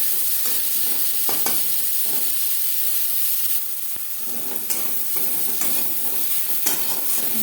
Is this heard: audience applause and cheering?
no